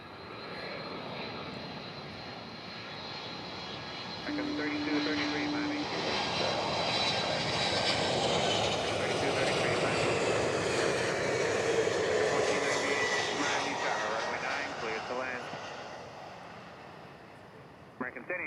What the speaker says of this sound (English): Delta 767-300 coming in next from Atlanta, Georgia